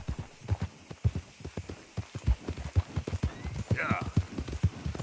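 Horse hooves gallop in a quick, steady clip-clop rhythm during a race in the video game Red Dead Redemption 2, close and clear, with a brief whinny near the end.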